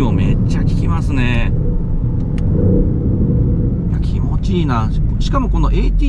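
A Lexus LBX Morizo RR engine hums and revs on a racing circuit, a steady mid-level drone running beneath near-continuous talk from inside the car.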